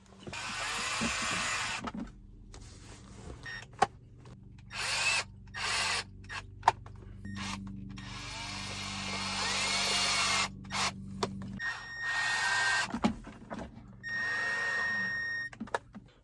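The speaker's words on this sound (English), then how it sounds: "take the 4 supplied Phillips head screws and thread them in these 4 positions here" Phillips head screws driven and self-tapping into the plastic of a wireless charging pad for a GM Silverado/Sierra truck, with a close, loud whirring power driver running in several bursts separated by short silent gaps, no talking.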